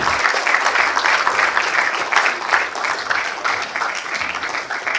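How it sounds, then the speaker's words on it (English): Audience at a programmatic advertising summit panel applauding, a loud, sustained and even roar of clapping from a crowded hall, continuing steadily throughout. "let the applause continue, ladies and gentlemen"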